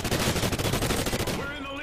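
Rapid automatic gunfire in Call of Duty: Ghosts, with loud, evenly spaced shots in a sustained burst that cuts off and leaves a brief ringing tail.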